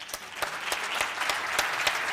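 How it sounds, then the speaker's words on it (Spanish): Steady applause for an award winner at a research and innovation conference, a room of people clapping evenly from start to finish without any voices. "Un aplauso, por favor."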